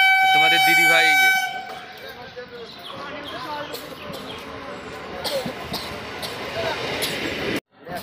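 A train arriving at a crowded railway station sounds a loud, close horn blast lasting over a second, followed by busy platform noise with people talking and scattered clatter.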